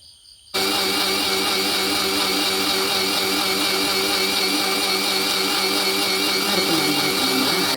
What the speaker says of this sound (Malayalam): മിക്സിയിൽ വെച്ചൊന്ന് അരച്ചെടുക്കാം